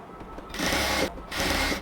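A sewing machine stitching fabric for a baby palazzo, two bursts of rapid mechanical whirring separated by a short pause, close and clear with no talking.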